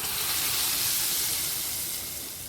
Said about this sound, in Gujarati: દાળની અંદર તરત જ એ વઘાર એડ કરી દેવાનો છે.